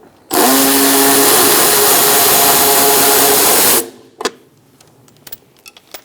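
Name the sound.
8mm socket wrench removing a bolt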